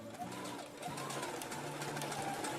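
A sewing machine stitches over a straight seam on a lace bodysuit, a close continuous whirring hum whose pitch rises and falls as the stitching speeds up and slows, with a brief pause near the start.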